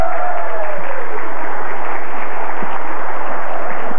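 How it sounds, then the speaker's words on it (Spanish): A studio audience applauds for Verónica Castro on a 1989 Mexican variety show, a dense, steady wash of clapping that holds at an even level for several seconds, with a faint tone gliding beneath it near the start. "Un aplauso para Verónica Castro"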